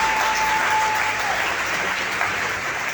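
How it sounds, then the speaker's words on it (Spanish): Sustained, dense applause from a church retreat audience clapping for the Holy Spirit, loud and steady for the full length with no one speaking over it. "Un aplauso al Espíritu Santo."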